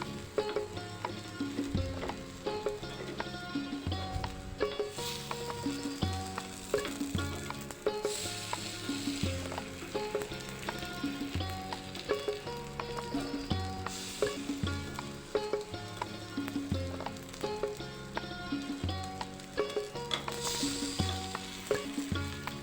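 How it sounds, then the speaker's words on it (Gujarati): Instant semolina appam fry on their second side in an appam pan, a soft steady sizzle mostly buried under continuous rhythmic background music. "બીજી બાજુ પણ આપણે શેકાવા દઈશું"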